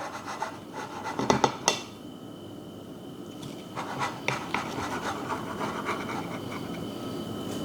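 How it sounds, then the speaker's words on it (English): A sharp knife saws through a treble decker sandwich, giving quiet rasping, scraping strokes with a few louder crunchy cuts early on and then steady softer rubbing. "Need a sharp knife to cut through it"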